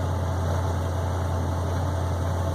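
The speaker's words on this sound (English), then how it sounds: "It is Buddy Peter riding in his 32 Chevy." Engine of a 1932 Chevrolet truck droning steadily while riding along, a constant low hum with vibration and no talk, close and even throughout.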